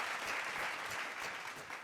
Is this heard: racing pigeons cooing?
no